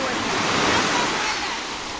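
Sea waves wash steadily onto a beach on a windy day, a broad continuous roar of surf close by, with no distinct breaks.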